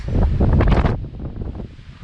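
Strong, gusty wind forecast up to 50 gusting, buffeting a microphone outdoors in a loud, roaring rush that swells into a peak before easing into a steadier, lower blow.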